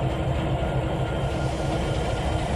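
Train wheels squealing and rumbling on curved track in the Trainz 2019 railroad simulator, a steady dense mechanical grind with low rolling rumble throughout, close and loud with no talking.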